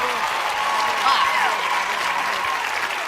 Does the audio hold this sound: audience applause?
yes